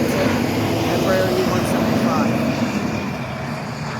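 An American Eagle Embraer E-175 arriving at Cleveland Hopkins International Airport produces a steady, broad jet engine roar, fairly distant and gradually easing, with outdoor wind noise around it.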